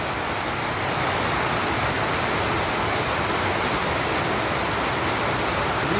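Heavy rain pours down in a steady, dense roar, close and loud, holding an even wash of noise without pause from start to finish.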